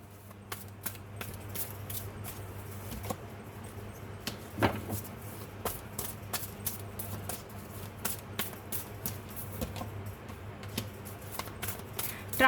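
Tarot cards being shuffled and drawn by hand: quiet, repeated crisp flicks and soft slaps of cards in an irregular rhythm, close up, with faint background hum and no talk.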